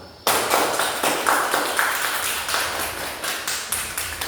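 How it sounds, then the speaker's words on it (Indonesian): Elementary school pupils clapping in a classroom for the grade 5 class, a loud, sharp burst of hands that starts abruptly and holds a brisk, slightly uneven rhythm for about four seconds, with no voices over it. "oke, tepuk tangan untuk kelas 5"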